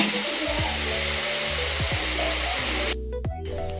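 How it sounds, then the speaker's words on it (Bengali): Potatoes fry in a pan on the side, beside pressure-cooked meat, giving a steady, loud hiss that runs throughout beneath sustained tonal sounds, thinning out briefly near the end. "এই যে আলুটাও ভেজে নিব ওই পাশে।"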